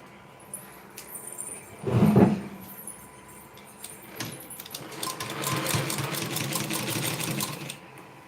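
A sewing machine runs a straight stitch along a blouse hook strip. A short loud burst of stitching is followed after a pause by a longer steady whirring run, with small clicks of handling between them.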